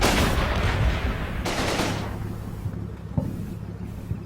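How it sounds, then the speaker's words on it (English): Gunfire in the Combat Mission war game during a battle at the Neerpelt bridgehead: a dense burst of shots up front and another sharp volley around mid-clip, then fading into scattered, more distant reports. "What are they shooting at?"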